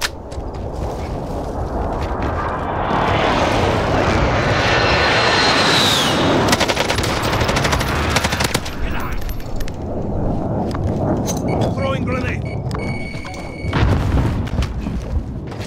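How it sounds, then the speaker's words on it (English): In a first-person shooter, a precision airstrike arrives with a loud roaring jet flyover that builds and sweeps past, followed by heavy booming explosions and scattered gunfire; a radio-style voice talks over it. "Be advised, friendly precision airstrike inbound."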